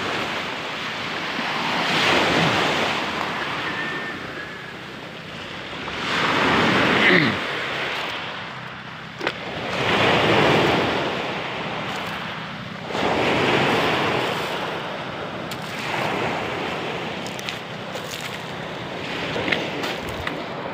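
Rough sea waves at a coastal Philippine village, rolling surf surging and receding in repeated broad washes, loud and close, with steady wind noise buffeting the microphone throughout.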